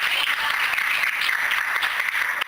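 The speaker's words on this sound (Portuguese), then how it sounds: "Você pode aplaudir e exaltar a Deus nessa noite." A church congregation applauds during an evening service, a steady wash of many hands clapping at moderate distance with no talking over it.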